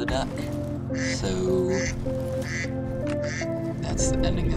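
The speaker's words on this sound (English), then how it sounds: "And there's the duck." Duck quacking in the Crysis 3 video game, a few nasal quacks standing out over steady game music and a talking voice.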